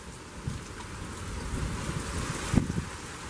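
Rain pours in gusty wind during a lightning-filled thunderstorm, a continuous moderate rushing hiss with a brief louder gust or spatter near the end, and no one speaking.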